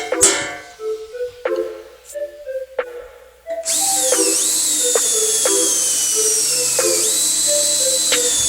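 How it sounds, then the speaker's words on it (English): A power drill bores a hole through a metal dirt bike gas tank for a petcock valve. A few light taps and clicks come first, then a loud, steady high-pitched drill whine runs to the end. "center punch this and drill a hole so I can put in this petcock valve"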